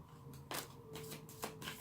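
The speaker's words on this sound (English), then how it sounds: "I'm just going to keep shuffling until I feel like I shouldn't anymore." A deck of cards being shuffled, soft riffling bursts and light flicks repeating in a quick, uneven rhythm, faint and close with no talking.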